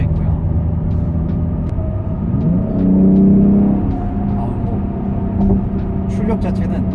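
BMW X3 M SUV switched into its most extreme M2 mode with the sport exhaust open, accelerating on the highway just past a tollgate, its engine drone swelling to a loud, sustained rise midway before settling back to a steady hum.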